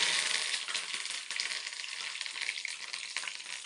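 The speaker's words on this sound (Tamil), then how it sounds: "எண்ணெய் சூடாகிடுச்சு. கடுகும் ஜீரகமும் போட்டுருவோம். இதில் கருவேப்பிலை," Mustard seeds, cumin and curry leaves crackle and sizzle steadily in hot oil, a dense continuous frying hiss close by with small pops throughout, no voices.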